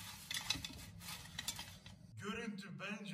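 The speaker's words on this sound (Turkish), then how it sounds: "Bir parça karıştırıyorum." French fries being stirred on a plate after frying, giving soft scraping and clinking with a rustle of the crisp potatoes, mixed with low kitchen noise and some faint background voice.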